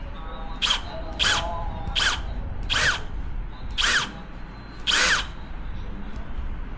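Power drill boring screw holes into an inflatable kayak transom for a transducer mount: six short whining bursts in a steady rhythm, close and fairly loud against a low background hum.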